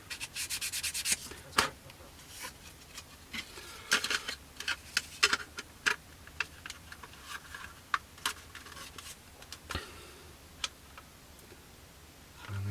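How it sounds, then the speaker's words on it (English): An inside surface of a Kinetic Harrier GR3 plastic model kit is sanded by hand in short, close rubbing strokes with brief pauses between them. Nobody speaks. "So I'm just going to sand that inside surface just to give us a tiny little bit of wiggle room."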